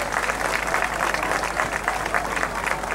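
A crowd at a festive ranchera music event applauds respectfully for a departed neighbor, sustained dense clapping at a moderate distance with faint voices beneath.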